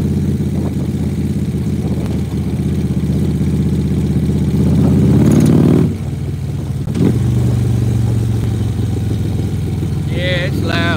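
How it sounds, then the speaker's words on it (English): A truck engine idles with a steady mechanical tapping, loud and continuous, briefly swelling as it revs before settling back. People talk over it throughout. "Bo, can you hear my motor tapping?"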